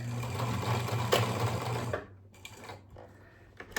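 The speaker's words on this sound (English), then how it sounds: "Sew down, and then I'm going to back tack" Home sewing machine stitching down a fabric scrunchie, a steady close whirring run for about two seconds, then stopping and giving a few short bursts as it back tacks.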